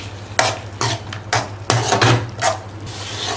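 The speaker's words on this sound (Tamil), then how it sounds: "நம்ம நெய் கொஞ்சம் கொஞ்சமாக விட்டு நல்லா கலக்கிக்கலாம்" Carrot halwa stirred with ghee in a pan, a spoon scraping and pushing the thick mixture in about seven rhythmic, close strokes over a faint sizzle.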